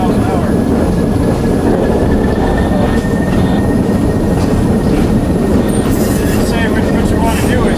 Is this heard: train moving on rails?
yes